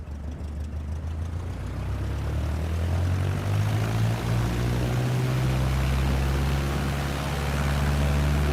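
Propeller aircraft in a video game roars through its takeoff run, a steady droning engine with low humming tones that swells slightly louder as it goes, no talking.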